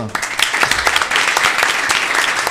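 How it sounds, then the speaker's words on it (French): A burst of audience applause, dense and fairly loud, many hands clapping at once with no talking above it for a couple of seconds. "On peut applaudir."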